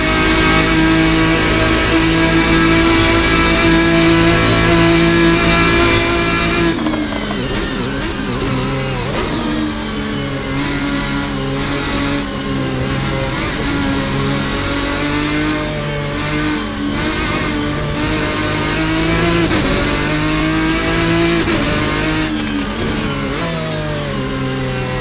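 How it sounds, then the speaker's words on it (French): A Ferrari race car with a V12 engine in the Assetto Corsa racing game, running a GT mod, revs loudly and continuously, its pitch climbing and dropping through repeated gear changes for about twenty-five seconds with no talk. "C'est une voiture qui est équipée d'un moteur V12, cette Ferrari qui chante absolument somptueusement."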